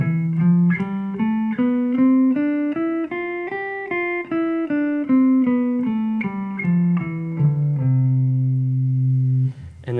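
A clean electric guitar plays a steady ascending then descending scale starting on a low C, one distinct note at a time, ending on a sustained low note.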